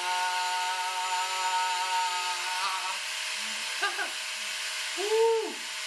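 A power drill runs close by with a steady, high motor whine for about three seconds, then falls away into a few short squeaky chirps and a brief rising-and-falling whine near the end.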